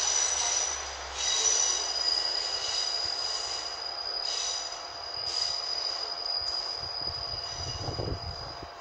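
A Northern class 156 diesel unit departs Carnforth station toward Barrow-in-Furness on the West Coast Main Line. Its wheels squeal steadily in a high pitch as it pulls away, and a low engine rumble rises toward the end.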